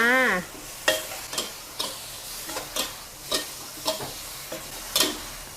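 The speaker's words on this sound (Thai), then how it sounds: "แล้วทีนี้เราก็ผัดให้โหระพาสุกนะ ใช้ไฟแรงสุดเลยจ้า" Tofu, minced pork and basil are stir-fried over the highest heat, with a spatula scraping and knocking the pan in a steady beat of sharp strokes about every half second over a constant sizzle.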